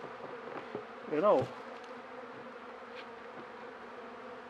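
Disturbed honeybees buzz in a low, steady drone during a hive inspection, with one louder close pass of wingbeats near the start. Faint background sounds accompany the bees.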